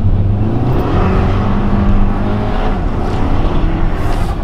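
A hand-control-adapted VW Jetta TSI accelerating, its engine a loud, steady, close drone that holds level for the whole stretch with a slight rise in pitch and no voices.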